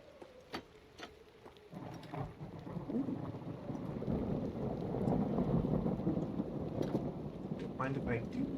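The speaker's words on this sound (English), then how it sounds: "It sounds like it's raining." Steady rain with rumbling thunder swells in a Minecraft world near an airship and an abandoned museum, starting faint, then building into a dense, continuous wash that holds at moderate level, with a few sparse clicks at the start.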